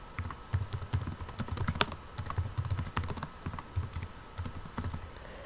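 Rapid typing on a computer keyboard, close and clear, with a steady run of light key clicks and thumps for several seconds and no speech.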